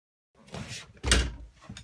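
A wooden door in a DIY-renovated room is handled and pushed shut, giving a soft scuffing bump followed by a louder, close, heavy thunk and a brief rattle, with no talking.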